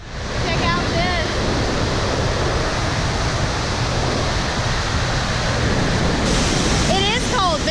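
Niagara Falls roars at the Cave of the Winds boardwalk, a loud, close, unbroken rush of falling and crashing water that fills the whole clip.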